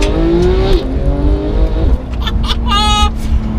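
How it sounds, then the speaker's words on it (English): A Porsche 991 GT3 engine with a Sharkwerks bypass exhaust drones steadily at close range, its pitch dropping and rising through gear changes, with sharp pops and crackles from the exhaust on downshifts toward the end. "Oh man, exhaust! It's the downshifts."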